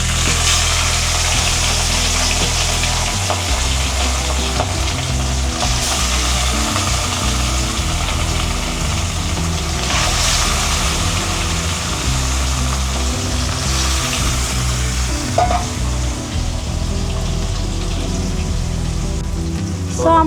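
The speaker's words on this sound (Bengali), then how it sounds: "আমি খুব অল্পই মাছটা ভাজবো" Rohu fish frying in a wok of fully heated oil gives a loud, steady, crackling sizzle that holds unbroken for the whole stretch, close to the listener and with no voices.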